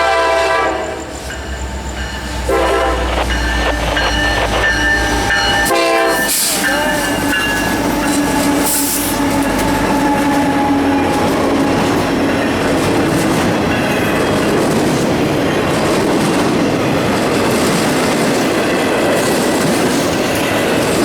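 An FEC freight train, number 101, passes at night with a loud, sustained rumble of railcars and rhythmic clickety-clack from the wheels, and a horn sounds near the start.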